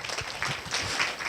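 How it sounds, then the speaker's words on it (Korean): An audience at a university graduate school of education anniversary symposium applauds to welcome a speaker, a short, continuous patter of many hands at moderate volume. "박수로 환영해 주시기 바랍니다."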